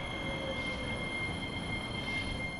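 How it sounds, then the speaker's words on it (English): A large tram rolls in on its rails, a steady rumbling rail noise with high, faint wheel squeal tones held throughout, fairly close and continuous. "the following arrival of the tram disturbed me even more"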